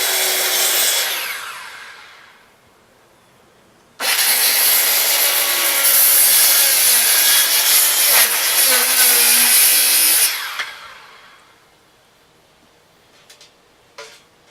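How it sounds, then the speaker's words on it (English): A hand saw cuts through the wood of a beehive, with a short burst of rasping strokes, a pause, then a long loud run of steady sawing, followed by a few faint knocks. "seeing as how I am sawing a large portion"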